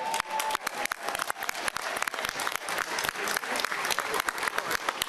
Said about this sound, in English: A round of applause for our flash mob tonight.